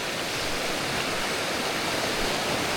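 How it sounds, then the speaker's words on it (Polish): Steady rushing water fills the clip, a dense unbroken wash of noise from a fast mountain stream flowing nearby on the Kungsleden trail in Swedish Lapland, with no voices. "Patrzcie, jaki potok."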